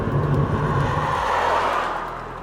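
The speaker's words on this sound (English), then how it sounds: "there is a little bit of road noise of course" Continuous low rumble and tire hiss from inside a moving 2021 Nissan e-NV200 electric van, steady and fairly loud, easing slightly toward the end, no voices.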